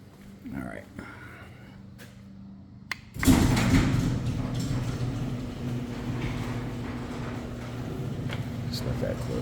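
An interior door in a house swings shut with a single dull thud about a third of the way in, followed by a steady low background hum while people talk nearby.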